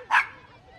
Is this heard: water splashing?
no